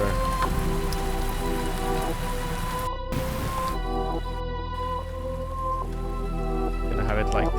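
Rain and thunder texture sample from a Mirage kit playing in FL Studio, a steady rain wash with a low rumble, layered under sustained musical tones, with brief dropouts around the middle.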